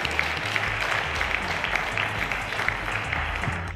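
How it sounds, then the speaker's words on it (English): A studio audience on a televised quiz show gives sustained, dense applause, steady and fairly loud throughout. "A round of applause to Lauretha and Samuel."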